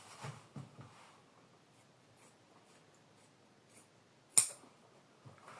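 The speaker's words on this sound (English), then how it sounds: "So heavy duty scissors." Heavy-duty scissors cutting saddle leather string during saddle making: faint rustling handling noises, then one sharp, close snip and some light shuffling afterwards.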